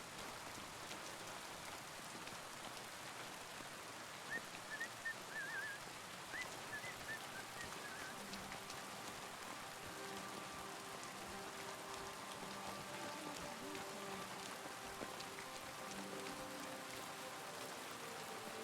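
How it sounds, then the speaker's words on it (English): Steady rainfall in the medieval video game Kingdom Come: Deliverance II, a soft continuous patter heard alone for the whole stretch, with faint goose-like honks briefly rising in the background. "Wow, this rain is awesome."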